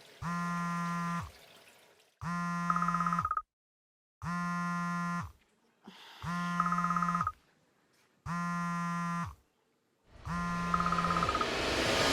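A phone rings in a home kitchen with six evenly spaced ring bursts separated by short silences, each a bright, harmonic electronic tone, fairly loud and close. Faint water or tap noise is heard between the rings.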